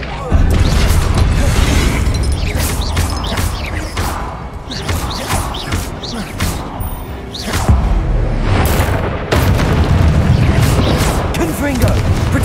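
Repeated booming blasts and crashing impacts from the Confringo explosive spell in Hogwarts Legacy punch through dense game noise, spoken incantations, and a voice calling out other spells.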